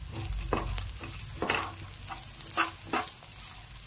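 Onion and cashew slices fry in a hot pan for a tondli bhaji, giving a steady, hissing sizzle with a few soft stirring scrapes throughout, close and moderately loud, with no voices.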